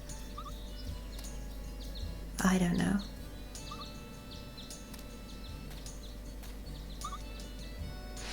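A farm chicken in Story of Seasons: Pioneers of Olive Town lets out a short, loud burst of clucking amid soft game ambience, and a person speaks briefly nearby.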